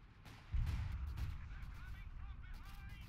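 Artillery in a World War II Battle for Caen video game fires a deep, rumbling boom that rolls on and fades, heard at a distance beneath a narrator's commentary.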